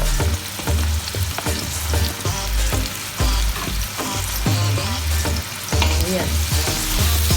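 Onion added to golden brown garlic in a pan, frying steadily with loud continuous sizzling and repeated stirring clatter from a utensil, cooking bopis, with no talking.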